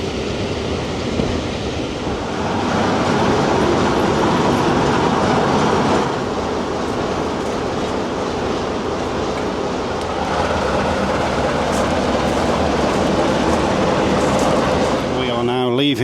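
British Rail Class 44 diesel locomotive D8 Penyghent hauls a train out of Matlock on Peak Rail, a steady close rumble with rail clatter throughout and faint voices beneath.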